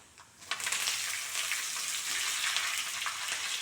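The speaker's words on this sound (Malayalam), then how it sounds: "നമ്മൾ കടുക് ഇട്ടു ഉഴുന്ന് പരിപ്പിട്ടു അത് പൊട്ടി വരുമ്പോൾ നമുക്ക് കറിവേപ്പിലയും കൂടി ചേർത്ത് കൊടുക്കാം" Mustard seeds and urad dal splutter in hot oil, a bright crackling sizzle that starts abruptly after a quiet moment and keeps popping steadily, close and loud, with no speech.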